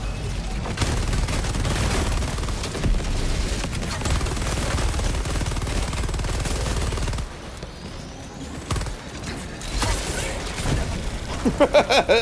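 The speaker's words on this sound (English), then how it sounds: "I just straight up blow everything up. Throwing grenade!" Dense gunfire and explosive booms from Helldivers 2 fill the scene for several seconds, then thin out into scattered shots and sharp blasts, with a player talking over the action.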